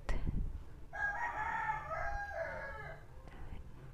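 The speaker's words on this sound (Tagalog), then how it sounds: "I don't know if naririnig nyo yung manok, pero may manok sa kapitbahay." A rooster crows once, a long wavering cock-a-doodle-doo at moderate distance, over faint background noise.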